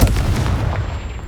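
A Confringo spell going off in the Hogwarts Legacy video game, a single loud booming blast that quickly decays into a rumbling tail.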